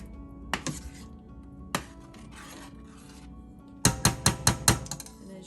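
A spoon scrapes around a pot of cheesy potato soup. A few isolated scrapes come first, then a quick run of five sharp, close strokes against the pot.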